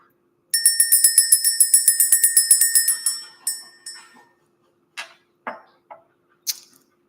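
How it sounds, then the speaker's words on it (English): A small bell is struck rapidly about fifteen times in an even, bright ringing run to clear energy. It then fades to a decaying shimmer, followed by a few isolated sharp taps in near silence. "We're going to go ahead and ring this bell."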